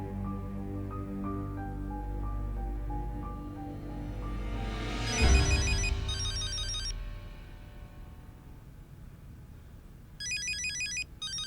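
A telephone rings with a melodic electronic ringtone, a string of bright tones followed by a trilling ring, a pause, then another burst of trilling near the end.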